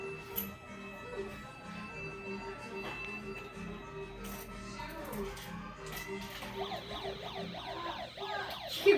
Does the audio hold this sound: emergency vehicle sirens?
yes